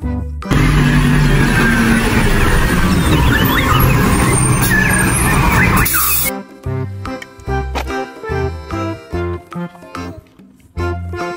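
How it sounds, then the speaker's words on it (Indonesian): A garbage truck sound effect plays loud and close, a heavy rumbling engine with hissing mechanical noise for about six seconds. It cuts off abruptly and is followed by bouncy music. "Mobil truk sampah."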